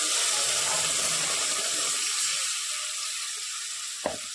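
Spinach paste for palak paneer goes into a hot pan, giving a soft, broad sizzling hiss that slowly fades, with a single sharp clunk near the end.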